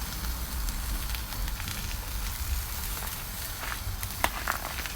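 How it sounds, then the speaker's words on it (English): A pot roast browns in a Dutch oven, giving a steady close sizzle and crackle of searing meat with a few sharp pops near the end, and no voices over it. "Can you hear the sizzle?"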